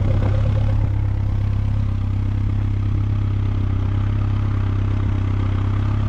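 A 115 outboard engine idles on a flush attachment, warmed up after about five minutes of running, with a loud, steady low-pitched drone and mechanical clatter throughout.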